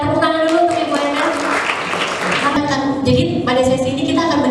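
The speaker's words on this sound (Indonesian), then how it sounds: "Tepuk tangan dulu untuk Ibu Endah" A seminar audience at a university economics faculty claps for a panelist, steady applause running beneath a moderator's voice that talks over it throughout.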